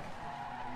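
A car skids with a sustained tire squeal after a handbrake turn in the rally game DiRT 3, a steady grinding slide held at close range.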